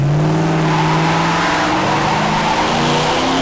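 A 1973 custom Plymouth Cuda engine revs loud and close, its deep rumbling tone climbing steadily in pitch as the throttle opens, with no voices over it.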